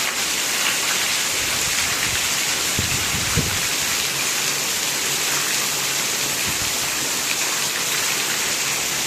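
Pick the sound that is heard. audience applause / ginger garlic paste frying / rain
rain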